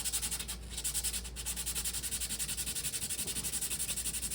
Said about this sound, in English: we do actually need to sand this edge and the back face on these really quick